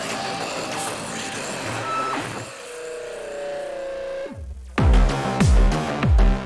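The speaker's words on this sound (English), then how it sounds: "It's kind of like an old school break" A loud drum break kicks in after a sparse, hollow buildup: heavy kicks and crisp snares hit in a steady, punchy pattern over a musical backing.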